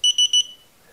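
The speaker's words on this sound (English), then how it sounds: "three blinks and three beeps" An XOMO GT laser pointer beeps three times, quick evenly spaced high-pitched tones, close and clear, signalling its third power level, followed by quiet.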